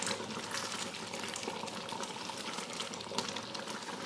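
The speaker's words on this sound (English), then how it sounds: "I can hear the bubbles different. It sounds different when it's getting there." Marmalade boiling in a pan near its setting point, giving a dense, continuous bubbling and popping hiss that stays steady and fairly close throughout, with no talking.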